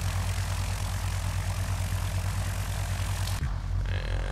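An aircraft engine idles during a descent in the X-Plane 10 flight simulator, a steady low drone with a broad rushing hiss that shifts and drops slightly toward the end, with no talk.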